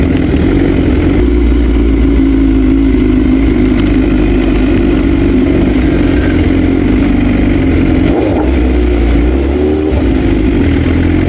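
A motorcycle engine drones loudly and steadily throughout, a close, constant rumble with slight shifts in pitch, as if heard while riding.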